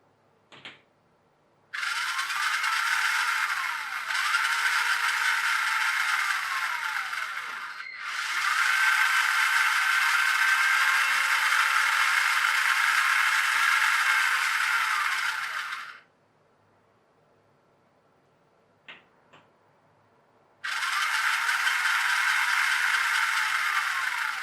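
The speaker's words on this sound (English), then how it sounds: "just trying the drive motor" Electric drive motor on a Linde forklift truck converted to radio control, whirring in three separate runs with rising and falling whine, each start and stop abrupt, close and fairly steady, with quiet gaps between.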